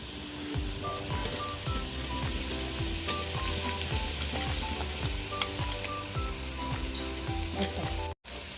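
Steady sizzling of ground ginger, onion and spice masala paste frying in a pan for biryani, punctuated by rhythmic scraping and tapping of a spoon stirring, with no voices.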